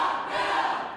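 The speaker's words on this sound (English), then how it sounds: "protesters outside the room were booing loudly and chanting" A crowd of protesters outside a legislative chamber boos and chants loudly, a sustained roar of massed voices for about a second.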